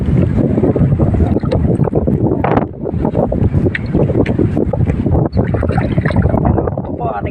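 Strong wind buffets the microphone in a roaring, continuous rush at a shoreline hut in the Philippines, loud and close throughout, with people talking underneath.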